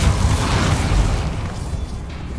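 A Depulso spell cast in Hogwarts Legacy, heard as a loud, dense blast of booming low rumble that fades slightly over a couple of seconds, with no talk.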